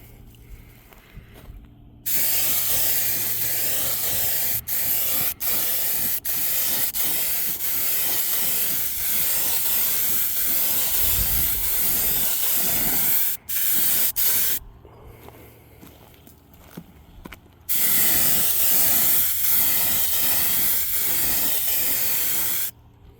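Spray paint hisses from an aerosol onto a Humvee HMMWV rear AC evaporator box in long, steady bursts, with brief pauses and clicks between passes, close and loud.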